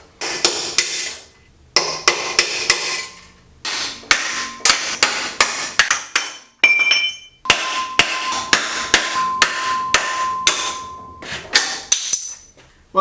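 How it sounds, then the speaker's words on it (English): Hammer blows drive old, brittle rivets out of aluminum with punches, sharp metallic strikes in quick bursts of three to five, separated by brief pauses, close and loud. "old, brittle rivets and aluminum are super easy just to drive out with a couple punches"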